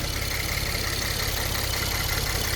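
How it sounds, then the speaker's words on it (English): A 2013-2019 Ford Taurus Police Interceptor with a 3.5L EcoBoost engine runs steadily, giving a dense, loud, even engine drone with a low pulsing rumble and no pauses. "Look at this engine roaring, man."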